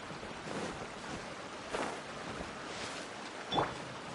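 Waterfall in the video game Genshin Impact, a steady broad rushing wash of falling water, moderately loud and continuous, with a couple of brief splashy accents.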